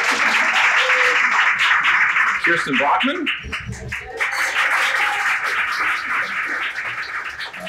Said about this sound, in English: we'll give you a big collective round of applause